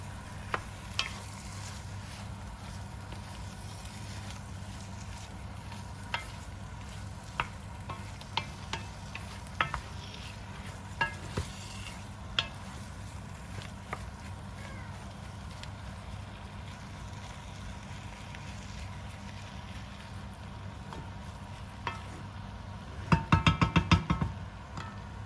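Meat stirred through a curry pot on a stovetop over medium heat: a low steady simmer with scattered soft spoon scrapes and taps, ending in a brief cluster of louder clatter.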